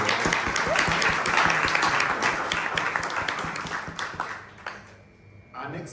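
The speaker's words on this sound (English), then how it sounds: "Let's give him another round of applause." An audience claps for a speaker at an education event, a dense wash of hand claps that holds steady and then thins out, with a voice speaking over it near the end.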